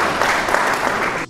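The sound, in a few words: applause in church gathering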